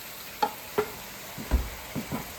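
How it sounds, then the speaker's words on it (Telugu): Tomatoes being fried in a pan for Andhra fish curry, a soft background sizzle broken by a handful of spaced scraping stirs, quiet and close with no talk. "టమాటాలు కూడా కొంచెం బ్రౌన్గా వచ్చిందాక వేయించితే"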